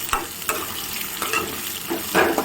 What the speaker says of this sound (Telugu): చూడండి ఎర్రగడ్డ వేసినాక ఇట్లా కలుపుకుంటున్నాను. ఎర్రగడ్డ బాగా వేగే వరకు కలుపుకోవాలండి.